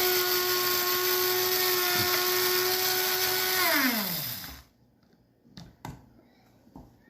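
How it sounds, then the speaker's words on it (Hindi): An electric grinder whirs at a steady high pitch while powdering ajwain seeds, then winds down to a stop, followed by a few quiet knocks and taps. "You have to take this one and you have to grind it."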